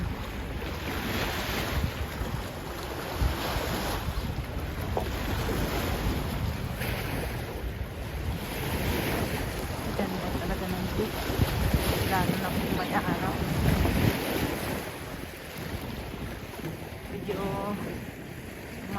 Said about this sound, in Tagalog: alon ng konti kasi nga malakas ang hangin.